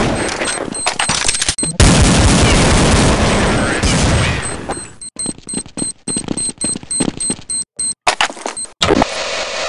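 Rapid automatic gunfire rattles in Counter-Strike 1.6 on the Inferno map, a dense burst giving way to choppy, intermittent shots and game sounds.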